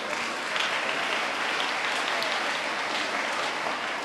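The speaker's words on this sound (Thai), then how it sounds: "ปรบมือให้กับนักเรียนรุ่นนี่" Audience at a school assembly applauding students, a dense, steady roar of clapping from many hands that fills the whole stretch at an even level.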